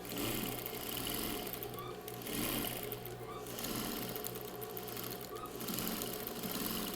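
A sewing machine stitches along the outer edge of a patchwork rug with a quiet, steady, rapid whirring broken by a few short pauses.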